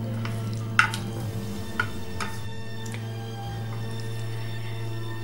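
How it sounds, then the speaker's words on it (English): Cooked noodles are stirred in a bowl, with a few soft clicks and scrapes over a steady low background hum. No one speaks. "and then you stir it so the noodles don't stick together"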